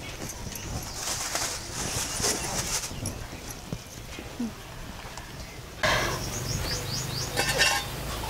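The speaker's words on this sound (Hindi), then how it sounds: "अब साफ बर्तन इसमें एक खाने के लिए रख देना है, एक पानी के लिए साफ रखना" Clean food and water pots are set down inside a chicken cage, making light clinks and scraping clatter against steady background noise, with faint bird sounds around.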